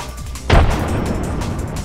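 A grenade goes off in the video game Apex Legends as a sudden loud boom with a broad low-end burst, then a sustained rumble of gunfire and background noise.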